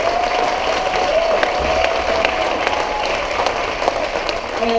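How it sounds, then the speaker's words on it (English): Loud, dense audience applause for student performers at a theatre show, a continuous roar of many hands clapping with little variation from start to finish. "Give them up a round of applause."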